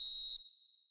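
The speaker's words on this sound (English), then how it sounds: "There's the whistle for half-time." A referee's whistle in an eFootball match signals half-time, one sharp shrill blast that holds steady, then fades out over a faint background.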